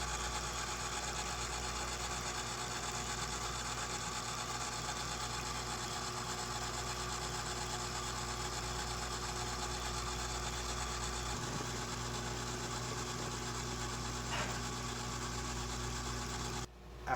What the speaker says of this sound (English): Continue pumping the feed until desired concentration is reached.